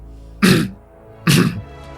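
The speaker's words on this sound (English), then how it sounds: "You got a cough there?" Two short throat-clearing coughs about a second apart, close and fairly loud, with no other voices.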